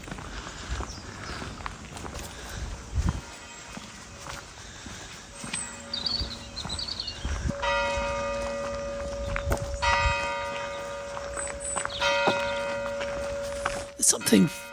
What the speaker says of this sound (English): something reassuring about the tolling of a bell, I think